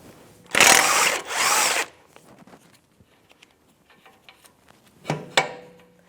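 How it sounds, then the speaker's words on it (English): Two loud bursts from a power tool with a 30mm socket spinning off the axle spindle nut on a 2007-2012 Nissan Versa, then quiet ticks and clinks and two sharp metallic knocks near the end. "Take the axle spindle nut off."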